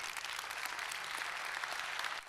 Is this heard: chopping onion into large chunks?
no